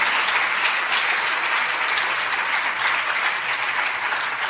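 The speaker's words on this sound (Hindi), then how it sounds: "जरा मनीष मलैया जी के सम्मान में जोरदार तालियां बजनी चाहिए" An audience at a Jain religious gathering applauds in honour of a donor, a dense, steady roar of many hands clapping continuously throughout without a break.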